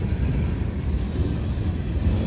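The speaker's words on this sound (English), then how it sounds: "Here comes the train, guys." Steady low rumble of a passing CSX freight train climbing a grade, broad and continuous without a break, close by with some wind buffeting.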